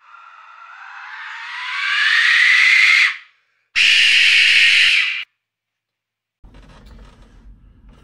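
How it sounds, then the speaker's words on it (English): Aztec death whistle blown hard, giving a loud harsh screaming shriek that rises over about three seconds, then a second sustained shrill blast after a short gap, followed by quiet low rumble. "they're basically very loud, screaming whistles, perhaps the loudest whistle you've ever heard."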